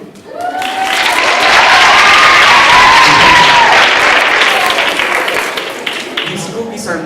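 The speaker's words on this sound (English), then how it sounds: "Applause for the cookies." A school audience applauds loudly and steadily for a treat of homemade Oaklawn cookies, the clapping swelling quickly and holding for several seconds before tapering slightly, with some voices mixed into the crowd noise.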